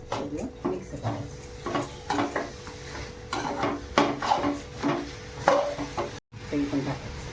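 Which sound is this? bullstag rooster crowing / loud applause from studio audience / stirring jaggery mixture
stirring jaggery mixture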